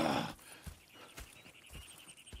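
Horses in Red Dead Redemption 2: a few soft, irregular hoof clops and shuffles, fairly quiet, with a brief louder burst of noise at the start and no speech.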